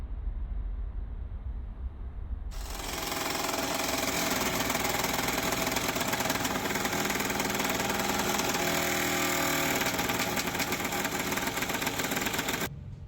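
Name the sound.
cutting out a broken bolt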